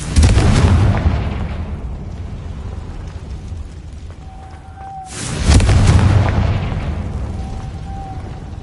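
Two heavy explosive booms from a Confringo fire spell in Hogwarts Legacy, the first at the start and a second about five seconds later, each with a long rumbling decay and a faint chiming tone in between.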